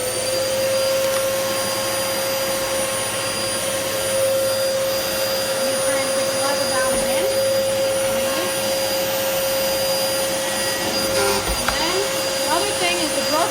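Hoover WindTunnel Tangle Guard bagless corded upright vacuum cleaner running steadily, a loud, constant motor whine and airflow roar with a high tonal hum, heard close and alone throughout.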